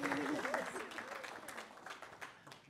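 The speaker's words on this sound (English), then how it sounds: "Give him a big round of applause" Applause rises from a church congregation at a full service, strongest at first and thinning gradually, with a voice heard over the clapping early on.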